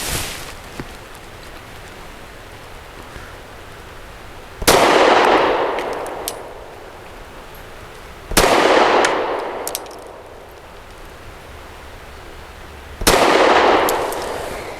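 Three loud, sharp pistol shots from a Zev OZ9C Hyper Comp firing steel-cased ammunition, spaced several seconds apart, each with a bright crack and a long ringing outdoor decay.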